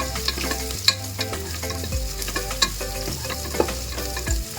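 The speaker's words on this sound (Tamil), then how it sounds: "வெங்காயம் நல்லா வதங்கி வந்துட்டு இருக்கு." Onions with two green chillies sautéing in a pan for sambar rice, stirred to a light brown, a steady frying sizzle broken by sharp spatula scrapes and knocks against the pan, close and fairly loud with no one talking.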